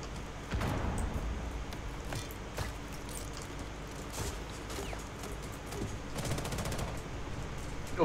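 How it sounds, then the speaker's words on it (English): Gunfire in the video game Rainbow Six Siege: scattered sharp shots and short bursts at moderate distance, with a denser rattling burst near the end, over a low background hum. "Who's shooting at me?"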